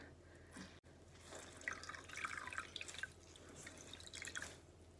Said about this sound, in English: I've got a little bowl here with some warm water in. So I'm just going to dip into that.